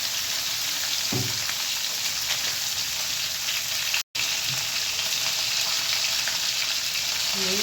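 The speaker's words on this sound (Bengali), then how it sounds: "দিয়ে দিলাম টমেটো আর এবার দিয়ে দেবো পেঁয়াজ সব একসঙ্গে আমি ভেজে নেব" Tomato and onion frying together in a hot pan for a rohu fish curry, a steady close sizzle throughout with a few soft stirring scrapes and one brief dropout midway.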